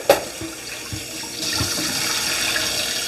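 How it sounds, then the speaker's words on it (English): Water pours off a bowl of foraged dandelion greens into a kitchen sink, a steady splashing stream that starts after a brief knock and rises to a continuous rush through the rest. "And then you just spill all that off into the sink."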